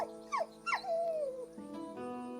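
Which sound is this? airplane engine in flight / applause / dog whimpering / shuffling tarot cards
dog whimpering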